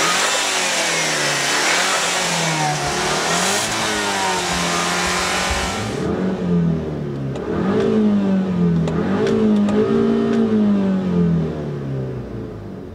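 Turbocharged 1.8 TSI petrol engine in a Škoda Octavia revving repeatedly, loud and close, the pitch climbing and falling in several blips over a steady hiss that fades partway through.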